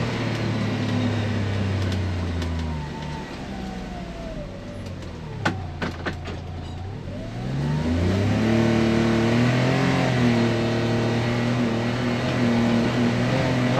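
A UTV engine runs in low gear, a loud steady drone that dips and then climbs again as revs change, with rising whining tones and a few clicks midway, heard close with no talking.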